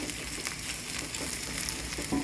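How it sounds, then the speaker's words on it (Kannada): Vegetables for Hakka noodles fry together in a pan over a high gas flame, producing a loud, steady, close sizzle that continues without a break. "ಇದೆಲ್ಲ ಒಟ್ಟಿಗೆ ಸ್ವಲ್ಪ ಫ್ರೈ ಆಗಬೇಕು. ಇದು ಸ್ವಲ್ಪ ಫ್ರೈ ಆಗಿದೆ."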